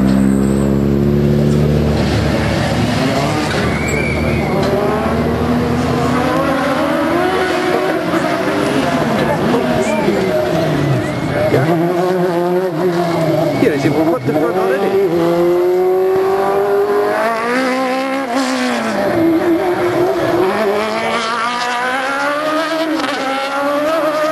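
Rally car engines rev and whine through gear changes at the Granite City Rally, pitch rising and falling repeatedly, with people talking and shouting over the noise.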